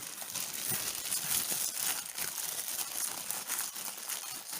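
Plastic crinkles and rustles continuously as potato doughnut dough is slowly peeled out of a plastic bag, close up, with no talking.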